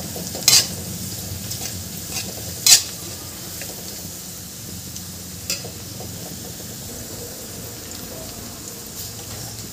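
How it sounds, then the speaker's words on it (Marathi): Dill leaf bhaji with turmeric and salt being mixed in a pan, a constant gentle hiss of cooking with a few distinct spoon clacks against the rim. "हे छान मिक्स करून घ्यायचं आपल्याला"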